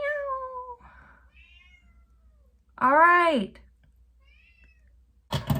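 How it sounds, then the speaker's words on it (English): A cat gives a clear, close meow in the middle, framed by brief spoken words before and a sharp noise at the end. "If you heard my cat meow"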